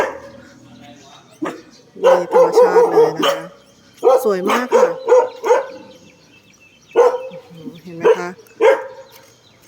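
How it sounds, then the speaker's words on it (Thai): A dog barks outdoors on a foggy morning among blooming purple wreath vines, in three clusters of rapid, sharp barks separated by quieter gaps, while someone talks over the scene. "อาจจะมีเสียงหมาเห่าประกอบนะคะ"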